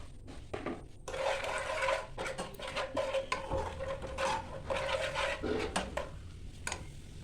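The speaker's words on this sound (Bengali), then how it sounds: "মশলাটা ভালো করে নাড়াচাড়া করে" A spoon stirs turmeric and salt through a spice mixture in a cooking pot, producing repeated scraping and knocking against the metal in an irregular rhythm, fairly close.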